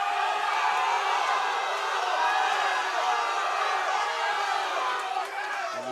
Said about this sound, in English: You can hear the crowd, and they come through.